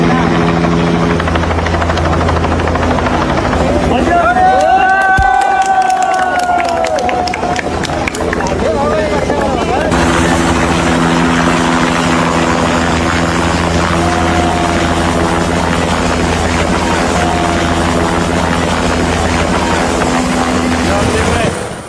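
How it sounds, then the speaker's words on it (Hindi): A rescue helicopter's rotors thump and roar loudly and continuously, close by during Nepal flash flooding, with voices and a reporter speaking over the din. "हेलीकॉप्टर पहुंचा रेस्क्यू के"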